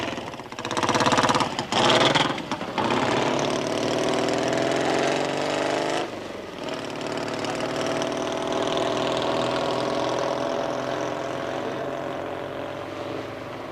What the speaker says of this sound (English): Andy offers John a lift up to Golders Green on his newly completed chopper